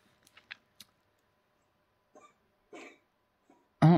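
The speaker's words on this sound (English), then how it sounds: "this is my cat going to cough" A house cat coughs indoors with a few sharp clicks and short hacking bursts spread out over several seconds, ending in one louder close spasm, in a quiet room with no talk.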